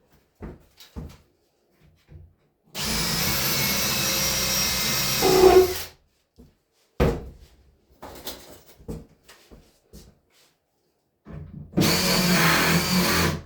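A power drill drives a screw into a built-in-place cabinet in two loud whirring bursts, the first about three seconds long and ending in a strained grind, separated by scattered knocks and handling clatter.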